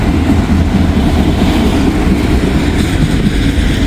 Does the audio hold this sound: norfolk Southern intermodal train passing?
yes